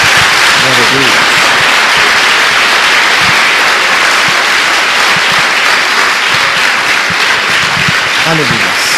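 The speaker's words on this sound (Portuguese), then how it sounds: "Dê mais uma salva de palmas a Jesus." A church congregation breaks into loud, sustained applause filling the room, the clapping dense and continuous throughout, with voices calling out faintly beneath it.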